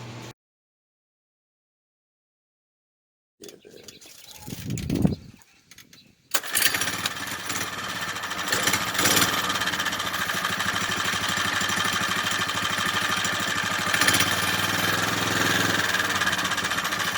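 After a stretch of silence, a motorized bicycle's big-bore four-stroke engine sputters through a couple of start attempts, then catches and runs steadily with a buzzy, rattling drone.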